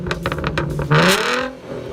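A Ford Mustang six-cylinder engine fitted with two cardboard exhaust pipes revs up close, a rough clattering idle rising into a short, loud surging rev before easing off.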